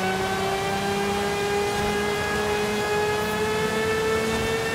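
A steady, droning 1000 HP Aston Martin Valkyrie AMR Pro engine in the video game Forza Horizon 5 holds a constant high pitch with layered harmonic whine, loud and continuous throughout.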